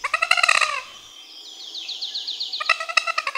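A common moorhen hidden in waterside vegetation gives loud, harsh, clucking calls. A burst of repeated notes is followed by a thinner rising series and then another rapid burst. No voices are present.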